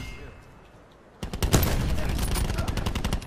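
Rapid automatic gunfire in Call of Duty Black Ops 4 suddenly starts after a quiet moment and continues as a dense, close burst of shots to the end, with a voice faintly present.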